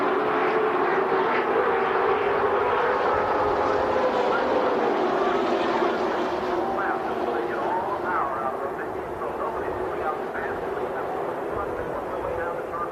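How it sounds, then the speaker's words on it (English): Dense field of stock cars with restrictor-plated engines accelerating together at the start of the 42nd Daytona 500, a loud continuous roaring drone that stays steady and slowly eases, with a commentator talking over it. "It takes a while for these cars to get up to speed with the restrictor plates on the engines."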